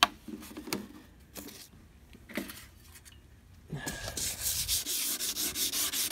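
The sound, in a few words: wet sanding headlight with 2000 grit sandpaper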